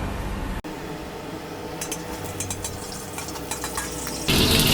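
Pork pieces with sauce are stir-fried in a wok, a moderate sizzle broken by metallic clinks and scrapes of the spatula, swelling into a louder, harsher hiss near the end.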